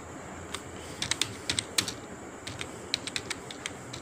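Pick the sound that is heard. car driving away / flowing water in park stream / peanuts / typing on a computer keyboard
typing on a computer keyboard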